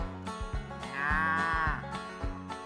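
Cattle moo from inside a cattle truck: a drawn-out, wavering low call sounds close and loud, mixed with rhythmic heavy thumps and rattling.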